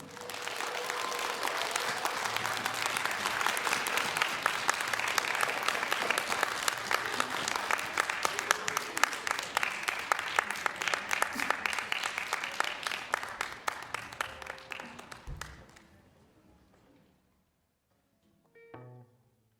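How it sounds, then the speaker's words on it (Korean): An audience gives warm applause welcoming a joint stage performance by a band and children at a global citizens festival, dense sustained clapping that fills the room and then fades out to near silence. "저희 다시 한번 세계 시민 차세대와 세계 시민 어린이들의 합동 무대를 따뜻한 박수로 맞이해 주시면 감사할 것 같습니다."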